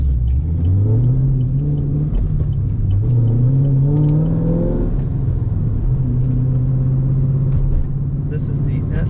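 A 2010 Chevrolet Camaro SS SLP ZL575 coupe with a 6-speed transmission drives along, its engine droning and rising through revs in a steady, loud interior rumble. A person speaks briefly over it.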